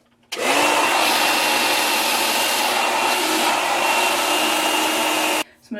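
A hair dryer blowing hair during a salon-style blowout runs as a steady, loud, close whir for about five seconds, starting abruptly and cutting off near the end.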